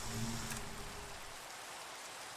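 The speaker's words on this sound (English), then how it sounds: "Oh, nice, it's raining." Steady rain falls in the video game Minecraft, a constant soft hiss with no break, quiet and uniform across the whole stretch.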